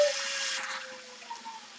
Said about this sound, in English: we're going to add our water